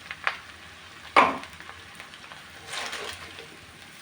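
Vegetables are stir-fried with tomato in a pan for nam fried rice, giving a steady close sizzle with a sharp spatula knock and bursts of scraping and tossing.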